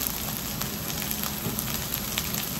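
Curry leaves and ginger garlic paste sautéing in a pan for mutton chukka give a steady close sizzle with crackling pops throughout, no one speaking.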